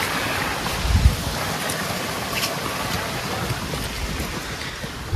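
A fast-flowing mountain river swollen by rainy-season water at about 1700 m on a forest hiking trail, a loud, constant broadband rush with no pauses and a brief low thump near the start.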